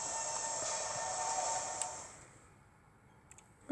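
Metro train from the Octo Expansion of the game Splatoon 2, a steady rolling rumble with a bright hiss that fades out after about two seconds, followed by a few faint clicks.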